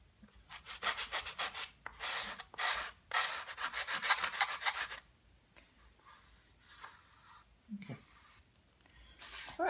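A laser-cut panel is sanded by hand in quick rhythmic strokes, with loud bursts of rasping friction in short repeated runs and pauses between, then quieter scattered rubbing.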